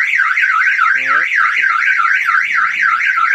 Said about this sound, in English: The text message takes about maybe 5 or 6 seconds when the alarm fires off.